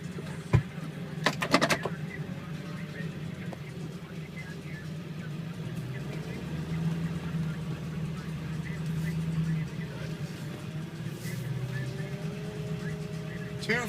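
Steady low diesel rumble from a 1999 Ford F250 Super Duty with a 7.3 liter turbo diesel and 18-inch wheels while driving, a continuous moderate drone with a brief clatter near the start and no talk.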